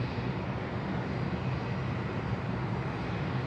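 Jetstar airliner taxiing along a taxiway at Sydney Airport, a steady broadband jet engine roar, moderately distant and unbroken.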